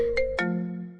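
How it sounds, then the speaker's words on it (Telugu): A phone ringtone plays a short melodic electronic phrase, two quick tones followed by a sustained ringing note that fades out, loud and close with no talk. "సుజన్ బ్రో నాకు ఫోన్ చేస్తాడు."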